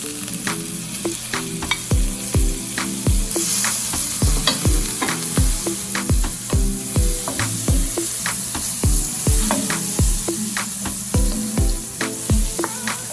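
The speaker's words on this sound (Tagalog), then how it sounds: "Put the onion and the garlic." Onion and garlic sizzle in a Saladmaster electric skillet, a steady frying hiss punctuated by repeated sharp clacks of a utensil stirring against the pan, close and fairly loud with no talking.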